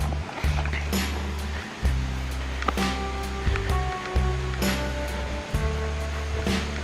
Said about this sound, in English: That's the spillway over the dam.